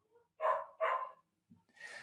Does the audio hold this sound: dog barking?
yes